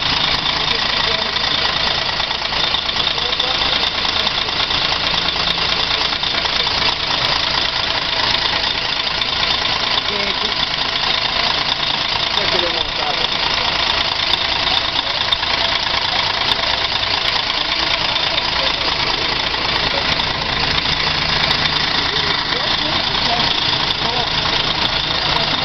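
A Caio Mondego Mercedes-Benz O-500UA city bus engine idles at a bus terminal, giving a loud, steady, close mechanical drone with a constant knocking texture throughout.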